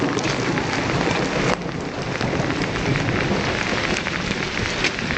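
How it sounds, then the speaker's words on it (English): Steady, loud rain pours down throughout a thunderstorm, a dense hiss with a brief dip midway and low rumbling thunder underneath, recorded up close outdoors in communal areas. "Here we go, thunderstorm."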